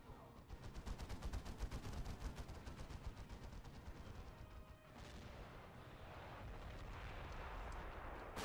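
Dense battle din from Men of War with the Warhammer 40k mod, with rapid gunfire bursts and heavy artillery blasts that roll on continuously and loudly. The sound thins briefly midway, then swells again into a sustained barrage.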